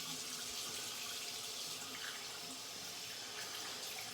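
Cold water runs steadily from a tap over a synthetic shaving brush being rinsed, a constant close hiss of flowing water with no talking.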